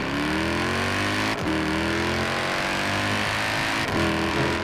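A 2018 Mercedes-Benz E63 S AMG accelerates hard, its engine note climbing steadily through two gear changes, each marked by a brief dip before the revs rise again, close and loud with no talk.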